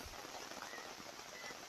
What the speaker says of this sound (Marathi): पाऊस बघा काय पडतोय